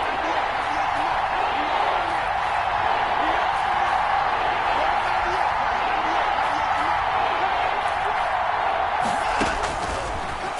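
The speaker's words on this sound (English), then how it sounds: "the crowd getting into it as we come up on a big 3rd down" Stadium crowd in a PS4 American football video game building toward a big third down, a continuous loud roar of cheering with scattered whoops and a brief louder swell near the end.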